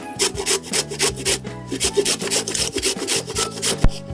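Raw mango rubbed against a grater for Gujarati pickle, giving a steady series of close, rhythmic rasping strokes, roughly three per second, alone with no talk.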